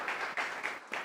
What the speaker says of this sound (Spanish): Quiero pedirles un aplauso para ellos.